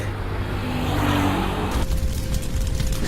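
A motorcycle engine roars close by as two riders pull away in a hurry. The noise is dense and continuous, then shifts abruptly as the bike moves off.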